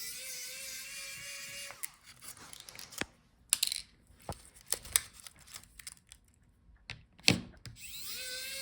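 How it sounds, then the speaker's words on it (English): Screws being removed from the top panel of a 2023 Acer Aspire 5 A515 laptop during a teardown: a brief motorised whine, then scattered sharp clicks and ticks of the tool and screws, close and fairly quiet. "Let's take out these screws on the top."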